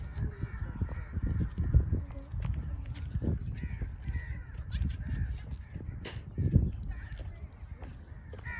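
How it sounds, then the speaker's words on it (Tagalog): Several birds caw and call in bursts over a steady outdoor background at the Khor Kalba mangroves in the UAE, with occasional harsh, crow-like calls standing out. "Ang ingay ng ibon, no? Puro ibon."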